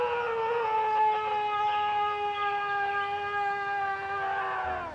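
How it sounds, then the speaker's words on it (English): A long, drawn-out howl from an unknown animal in the woods of northern Illinois, one sustained wavering cry with strong overtones holding steady for the whole stretch, close and loud, tailing off at the end with no talk. "It's a long, drawn-out howl. It lasts about 9 seconds and certainly sounds like an animal of some kind."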